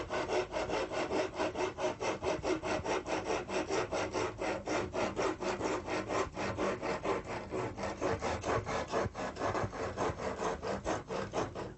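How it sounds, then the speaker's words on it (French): An articulated hand saw cuts through a wooden roof rafter with fast, regular back-and-forth rasping strokes, a continuous rhythmic scraping heard close up and fairly quiet. "on est en train de mordre dans le chevron, puis ça va faire un petit peu de bruit"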